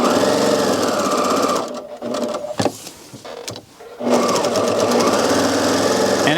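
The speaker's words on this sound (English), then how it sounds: "I'm just sewing up the side." A sewing machine runs loud and close as it stitches the side seam of a fabric gift bag, with a fast whirring drone that pauses briefly in the middle before resuming.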